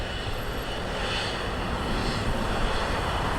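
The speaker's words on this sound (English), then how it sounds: "Look at the big engine, it's huge." Airplane jet engines at LAX airport, a loud broad roaring rush that stays steady and close throughout, with no voices.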